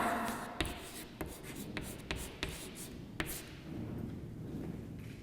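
Pen writing a name by hand on paper in a classroom, a soft continuous scratch broken by several sharp taps of the pen over about five seconds, close and quiet with no talk.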